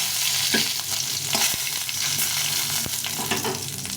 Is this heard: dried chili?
yes